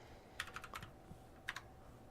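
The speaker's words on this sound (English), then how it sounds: "And then I'm going to type into my Linux terminal bash" Keys tapped on a computer keyboard to enter a command into a Linux terminal, a quick burst of several close clicky keystrokes, a short pause, then two more presses in a quiet room.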